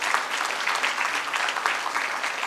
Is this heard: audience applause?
yes